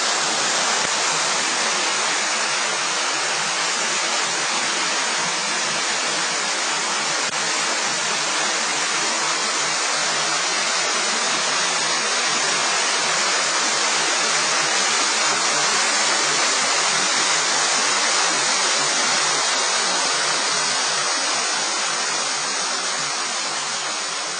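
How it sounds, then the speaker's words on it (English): Steady, dense roar of a waterfall rushing inside a cave in the Blue Mountains fills the space continuously, loud and unbroken, with no voices over it. "In the cave, nice amount of water flowing."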